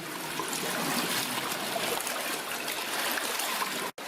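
Water draining out of an old copper mine, a steady rushing, trickling flow close by that stays loud and even throughout, with a brief dropout near the end.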